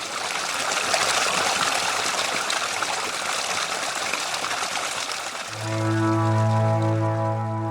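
Water flows steadily at the Tiummemmere fountain in Cuglieri during the Sabba Muda rite, a continuous broad rush that fills the scene before a sustained tonal drone rises over it near the end.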